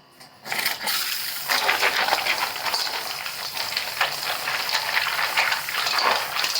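Water sloshing and splashing as turmeric roots are rubbed and rinsed by hand, starting after a brief quiet moment and continuing steadily.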